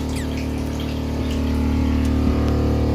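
Boat freshwater pump with a drip at the pump runs steadily, sucking air and failing to build pressure; a loud, continuous motor hum and gurgling water with faint rattles.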